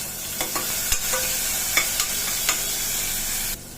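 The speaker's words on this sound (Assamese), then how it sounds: "বিলাহী মই গোটেইখিনি পেলাই দিছোঁ, দি গোটেইখিনি ভালদৰে লৰাই দিম।" Chopped tomatoes and asafoetida sizzle steadily in a hot pan while a spoon scrapes and stirs through them in a few distinct strokes, close up and with no talking.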